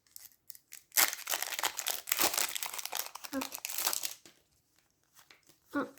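A foil wrapper on a Pokémon card booster pack is ripped and crinkled open up close, a loud burst of tearing and rustling for a few seconds, then sparse faint crinkles.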